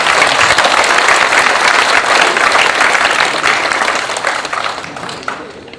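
Applause from the audience at a memorial ceremony for President Syngman Rhee in a hall at Seoul National Cemetery: loud, dense clapping from a large crowd, holding steady and then fading toward the end.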